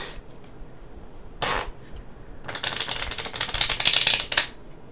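A password is typed on a keyboard, one quick key tap, then a pause, followed by a rapid run of clicking keystrokes, close and crisp.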